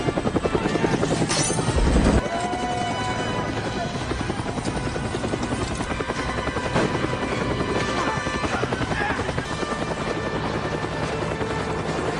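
Helicopter rotors and engine drone loud and continuous throughout a film battle scene, with a sharp impact near the start and a narrating voice running over the steady thumping roar.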